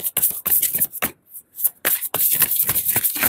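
A deck of oracle body cards is shuffled by hand, giving quick bursts of riffling and slapping with a short pause in the middle, close and crisp.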